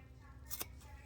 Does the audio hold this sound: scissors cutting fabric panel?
yes